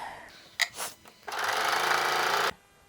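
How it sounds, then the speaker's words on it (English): A serger runs in one steady, loud burst of about a second as it sews and trims a side seam on a drawstring-neckline top, preceded by a few short clicks and handling noises. "if you're serging this together, like I am, you will be serging off a tiny bit"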